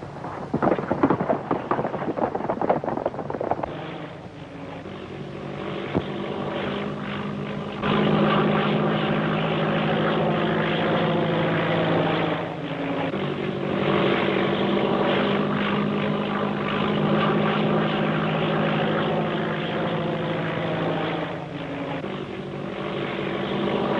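A propeller airplane drones steadily overhead, a loud, continuous rumbling engine roar that swells and holds for the full length with no talk, heard in a 1936 film.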